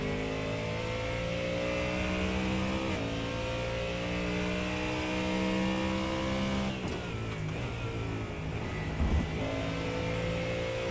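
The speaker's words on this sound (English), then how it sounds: "We're going to hop back on with Rodem Lev, the best sounding GT3 here" Race-car engine from a GT3 in a sim racing game at Shell V-Power Motorsport Park, revving steadily with rising and falling pitch through gear changes, loud and continuous with a brief dip near the end.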